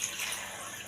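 Water poured into a blender jar for a beetroot juice, a steady close hiss of liquid running for about a second with no one talking.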